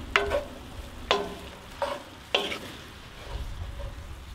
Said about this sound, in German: jetzt wird das Tomatenmark einfach schön mit dem Fleisch und dem Gemüse vermengt